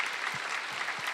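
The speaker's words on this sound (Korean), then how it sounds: "우리 리더님들에게 한번 박수로 한번 같이 격려할까요?" A church youth congregation clapping to encourage their lay leaders, a short, even patter of many hands, fairly soft and sustained throughout.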